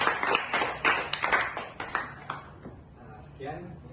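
Classroom clapping from a small group of students fills the first two and a half seconds as close, uneven bursts, then fades into murmured talk.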